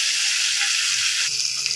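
Fish frying in a pan of hot oil, a steady close sizzle and crackle that briefly swells with a sharper burst near the end, no speech over it.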